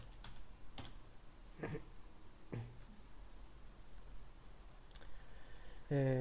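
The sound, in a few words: typing on a computer keyboard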